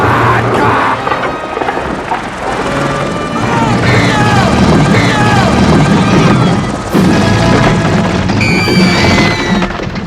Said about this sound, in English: a helicopter soon arrives at the scene